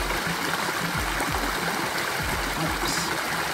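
Water from a hidden waterfall at Paradise Falls in Ventura rushes and burbles steadily nearby, a constant broadband roar with small gurgles and no pauses.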